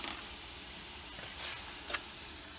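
Cinnamon-spiced pork chops sizzling in a frying pan, a faint, even hiss throughout with a couple of small ticks and pops near the end, no talking.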